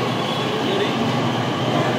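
A Pune Metro Purple Line train moves through a station, giving a steady, loud rumble and rolling rail noise that runs evenly through the whole stretch, with no voices.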